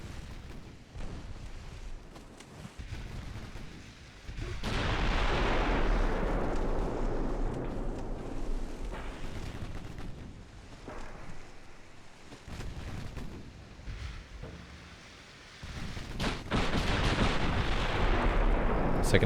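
Warship guns fire at a cruiser in a naval battle game, heavy booming blasts with long rumbling tails that swell and fade, several bursts rolling over one another, loud and near.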